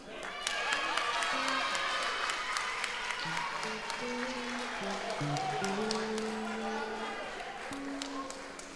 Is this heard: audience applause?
yes